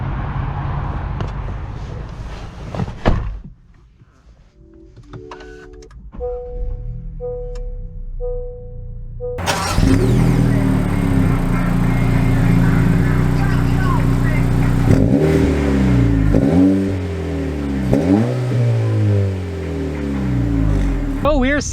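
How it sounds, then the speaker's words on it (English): A 2022 Honda Civic Si with a manual transmission pulls away and accelerates, its engine note rising through revs in the cabin after a quieter start with small clicks and chimes, with a voice talking over it. "So we're setting off here in the Civic Si"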